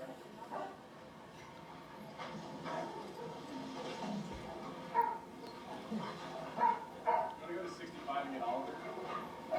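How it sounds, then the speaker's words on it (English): Dogs bark somewhere in the distance, faint and intermittent, over a steady indoor background hum with low voices now and then. "You hear the doggies barking?"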